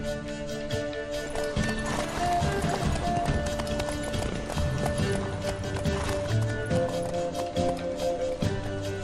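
A horse gallops in The Witcher 3, rapid hoof clatter running continuously under game music with a sustained tonal bed, moderately loud throughout.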